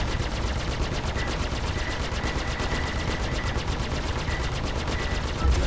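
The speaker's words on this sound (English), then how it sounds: "There you can see all the weapons firing." Super Hornet ship weapons firing in the Star Citizen video game: a dense, continuous rapid-fire barrage of gun bursts, loud and unbroken, with faint pinging hits underneath.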